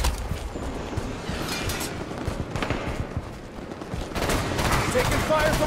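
Enemy soldier gunfire in the shooter game Halo 5, rapid bursts of automatic weapon fire mixed with other battle noise at moderate loudness, with voices partly audible underneath.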